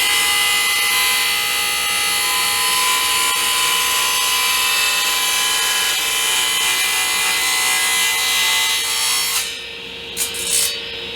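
Power saw blade tilted to 45 degrees cuts a bevel along a piece of wood, a steady loud whine of blade through timber running continuously for several seconds before cutting off abruptly near the end.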